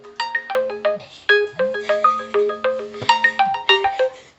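Phone ringing after the Realme Watch find-phone function triggers it, a loud melodic ringtone of quick bright notes in repeating phrases over a sustained low tone, with no talk.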